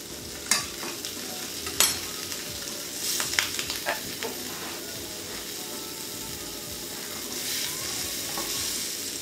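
Butter sizzles in a pan with a low, steady frying hiss, punctuated by a few sharp crackles and spatters early on, then settling into a quieter, even sizzle.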